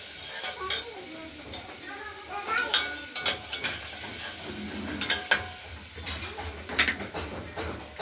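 Masoor dal with radish being stirred in a pressure cooker, with spoon scrapes and clinks against the metal pot over a soft sizzle, continuous and close with irregular sharp taps.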